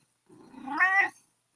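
A single drawn-out cat meow, close and clear, rising into a strained, wailing tone before it fades, with no other sound around it.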